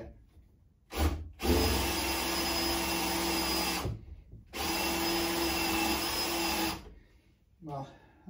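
A power drill runs in two long, loud, steady bursts as it drills out a stuck part on a vintage AV6, with short pauses between them and a brief whir at the end.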